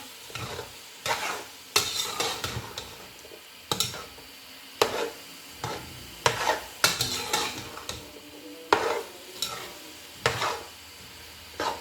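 Green chillies and chickpeas stirred into frying masala for chana meva pulao, with a spoon scraping the pot in repeated strokes over a steady sizzle, close and clear with no talking.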